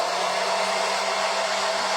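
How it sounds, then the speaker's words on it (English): A blow dryer runs steadily at close range as a heating tool on a homemade primitive honey pot decor piece, a loud, unbroken airy roar with a constant motor hum. "Now I'm just going to hit it with my blow dryer, my fancy schmancy heating tool."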